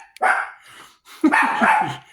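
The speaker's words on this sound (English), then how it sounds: "She's a good guard dog." A small dog kept as a guard dog barks in two sharp, close bursts, a short yapping volley, a pause, then another loud run of barks.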